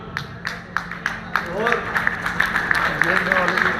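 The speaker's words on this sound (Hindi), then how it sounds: "जो समझ गया वो तालियां बजा सकता है" Scattered audience clapping at a jayanti celebration in Meerut Cantonment, a few sharp separate claps that thicken into light applause, mixed with voices talking and murmuring across the crowd.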